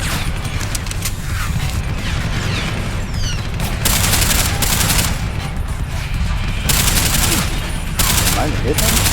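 Gunfire from the game Deus Ex: Human Revolution rattles through repeated loud automatic bursts, with heavier volleys starting and stopping between quieter stretches of mechanical clatter.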